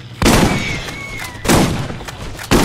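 Shotgun fire in Borderlands, with three loud, close blasts about a second apart. Each one booms and then rings out, and a faint whistling tone carries between the first two.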